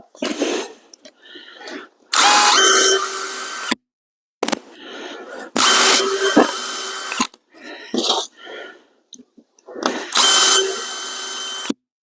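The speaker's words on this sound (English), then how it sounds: "I use this countersinker bit" A power drill with a countersink bit whirs in three short bursts separated by pauses, close up, with quieter handling noises and a few spoken words between runs.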